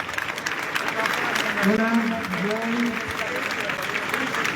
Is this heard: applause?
yes